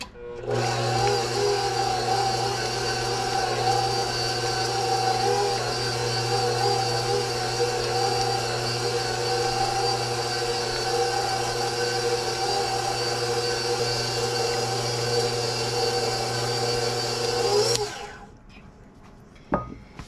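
A blender or electric mixer runs steadily for about eighteen seconds, whirring loudly as it mixes cinnamon, flour and eggs into a batter for an apple cheesecake, then switches off and spins down.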